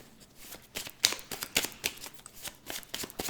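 A deck of Lenormand cards is shuffled and cut by hand, giving a quick irregular run of crisp riffling and slapping bursts, close and fairly quiet with no voices.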